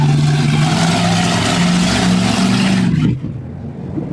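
A loud car running without a muffler revs hard along a busy Huntington Beach street in summer, a rough, droning exhaust roar close by that cuts off abruptly near the end.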